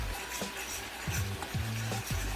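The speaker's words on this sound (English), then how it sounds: "you just put that in and give it a stir. Let that cook down, let it simmer for about 5 minutes." A butter garlic Parmesan sauce simmering in a pan while a utensil stirs it, with several distinct scraping strokes over a soft, steady sizzle, close and without talk.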